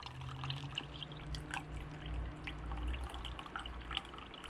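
Water drains through a fine net out of a homemade brine shrimp hatchery, a faint, steady trickle with soft drips running continuously beneath a low background hum.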